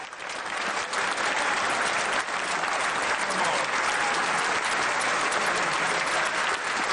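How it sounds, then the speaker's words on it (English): Members stand and clap in the House of Commons chamber, a steady, dense round of applause holding at even loudness from start to finish. "Theresa May left the House of Commons after her final Prime Minister's questions and was seen off with a customary standing ovation"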